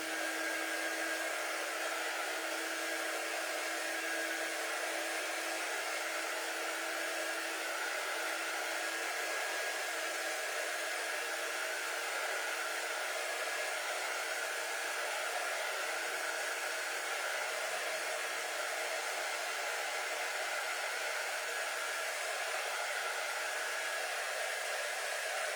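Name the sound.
hair dryer drying a craft piece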